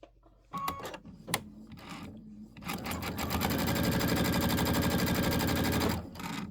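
A sewing machine stitches a quilt set in a steady, fast, close run that lasts about three seconds, after a few short starts and stops. No one talks.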